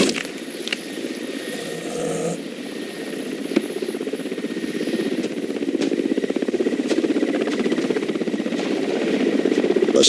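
A helicopter's rotor chops in a steady rhythmic beat with a whining engine, fairly close and growing slightly louder, as it flies over a tigress during a sedation operation.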